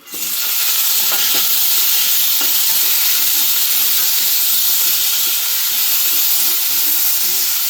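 Coconut, tomato and onion sizzle and fry together in a hot pan, a steady loud hiss of frying that holds constant throughout with no one talking.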